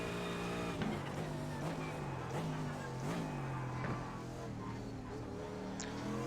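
GT3 race cars, among them a BMW, run at Spa in the iRacing sim, heading toward La Source; a continuous engine drone with rising and falling pitch and an overlapping whine from nearby cars.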